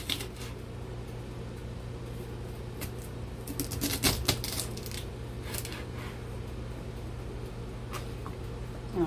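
A knife chopping through an onion on a cutting board, a run of quick sharp taps clustered in the middle with scattered single cuts before and after, close and clear.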